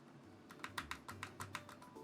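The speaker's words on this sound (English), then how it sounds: "If I press spacebar" Keys clack on a Keychron K3 HE Hall effect low-profile keyboard, about nine crisp, evenly spaced presses close up, quiet and alone.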